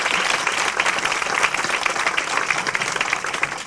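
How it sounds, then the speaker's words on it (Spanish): An audience at the Instituto Cervantes in New York applauds a Cervantes Prize-winning author with dense, steady clapping that continues evenly throughout. "han aplaudido"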